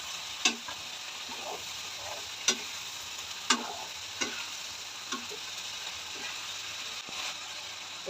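Garlic sizzling in a pan for buttered shrimp, a steady close frying hiss broken by sharp spatula taps and scrapes at irregular intervals.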